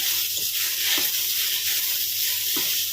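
Grated carrot frying in a pan for carrot halwa, a continuous bright sizzle with soft periodic stirring scrapes, close and steady.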